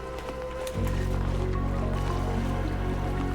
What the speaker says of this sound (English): Here comes all the water